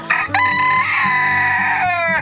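A rooster crows once at a morning chicken coop, loud and close, a long drawn-out cock-a-doodle-doo with a rising start and a fading end.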